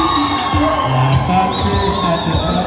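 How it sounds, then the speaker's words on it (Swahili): A wedding crowd erupts in cheering, shouting and ululating trills with clapping, a dense, loud, continuous celebration with a few voices calling out on top. "Makofi na vigelegele."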